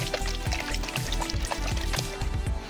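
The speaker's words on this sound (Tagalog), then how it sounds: "Pagka satisfy na kayo sa paglinis, banlawan lang natin ng tubig." Water poured to rinse cleaned brake parts of a Honda Click scooter during a brake shoe replacement, a continuous close splashing and trickling stream with small irregular drips throughout.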